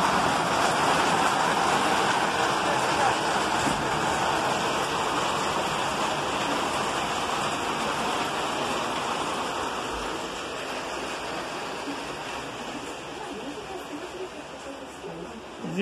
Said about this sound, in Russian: На улице идет дождь.